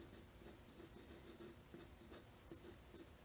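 Pencil lightly shading on paper with light pressure during a drawing lesson, a soft, close, scratchy back-and-forth rhythm of short strokes, quiet and steady, with no voices.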